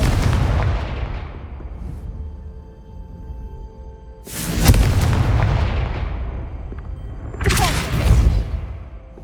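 Fiery blasts from the Confringo spell in Hogwarts Legacy: three booming explosions spaced a few seconds apart, each a sharp heavy hit trailing into rumbling decay, loud and close with no talking.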